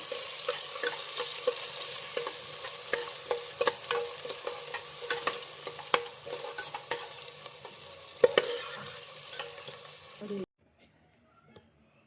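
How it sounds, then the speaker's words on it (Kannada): Sliced onion frying for jeera rice, a steady broad sizzle with repeated scraping clicks as it is stirred in the pan, close and fairly loud, ending abruptly near the close. "ಈರುಳ್ಳಿ ಸ್ವಲ್ಪ ಗೋಲ್ಡನ್ ಬ್ರೌನ್ ಬರೋವರೆಗೆ ಫ್ರೈ ಮಾಡ್ಕೊಳ್ಳಿ."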